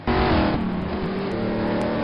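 A race car with a rear-end problem after a test race runs past loudly, its engine note harsh and uneven and wavering in pitch, close and without voices.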